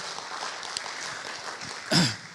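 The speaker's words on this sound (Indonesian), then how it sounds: "Boleh beri tepuk tangan buat Allah kita saudara." Brief burst of applause from a church congregation during a Sunday worship service, swelling loud for about half a second near the end after a stretch of quieter room murmur.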